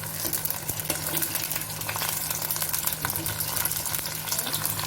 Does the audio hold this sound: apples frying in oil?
yes